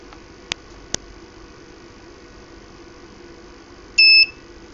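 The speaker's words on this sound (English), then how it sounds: "Yep, right, buzzer twice." An ESP32 keypad circuit's buzzer beeps twice with short, high electronic tones after two faint clicks, loud against a quiet, low electrical hum.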